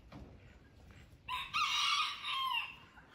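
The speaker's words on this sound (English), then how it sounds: "Look at all these chickens, well, ducks too." Rooster crowing at a rural family home with ducks nearby, one loud drawn-out cock-a-doodle-doo rising after a few faint clucks and quiet yard noise.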